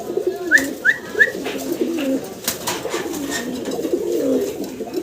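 A pair of yellow Bombai fancy pigeons coo in low, rolling phrases close by, with a few brief higher chirps near the start and soft rustling throughout.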